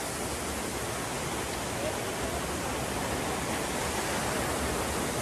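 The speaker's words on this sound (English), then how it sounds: "at the highest waterfall in Wales" Pistyll Rhaeadr, the highest waterfall in Wales, gives off a constant, broad roar of falling water that stays even and loud throughout, with no clear voices over it.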